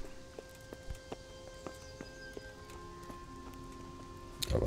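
Horse hooves clip-clop in a steady walking rhythm in the medieval video game Kingdom Come Deliverance, fairly quiet with ambient outdoor sound and a louder burst at the end.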